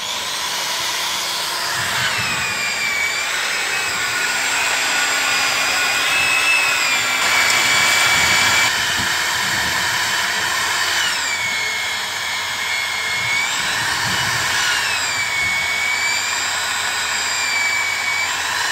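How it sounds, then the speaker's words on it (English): A pipe fusion machine works on water supply pipe sections at a lake-pond installation, its motor whining steadily with rising and falling pitch sweeps and a loud, continuous tool drone, and no talk over it. "he's got this machine that's going to lock these two together, and then that thing is going to fuse them together"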